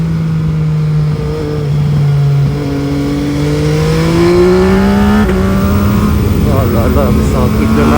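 An MV Agusta Brutale 800 motorcycle engine revs up steadily through several rising pitches, loud and close, with a rougher, busier roar toward the end.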